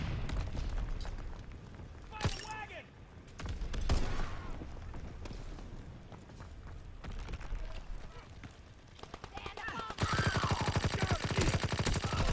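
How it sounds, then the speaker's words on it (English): A suppressed PPSh-41 submachine gun fires in Call of Duty WW2, giving muffled rapid bursts amid game effects, with a dense burst of fire near the end and a voice talking over parts of it. "PPSH suppressor, pretty cool to be honest"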